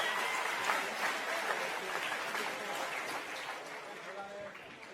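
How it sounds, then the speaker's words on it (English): A crowd at a boxing event claps for the two fighters after the bout, with a full, steady wash of applause that slowly eases off while a voice speaks over it. "Round of applause for those 2 gentlemen."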